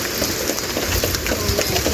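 Steady rain falls on a rainy April day outdoors, a dense continuous hiss and patter of drops on surfaces with no talking over it.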